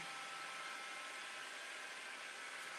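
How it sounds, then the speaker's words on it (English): Steady, faint whooshing of a hair dryer blowing continuously, with a constant airy hiss and no voices. "I'm just using a hairdryer just to show you"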